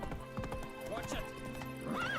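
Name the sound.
horse galloping and neighing in a video game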